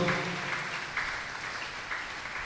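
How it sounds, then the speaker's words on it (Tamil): A church congregation at a Tamil Catholic Mass claps to thank Father Jack, with steady, moderately loud applause from many hands that fills the whole stretch and eases slightly over time. "கரவொலி எழுப்பி நம்முடைய நன்றிகளை பாராட்டுக்களாக நாம் தெரிவிப்போம்"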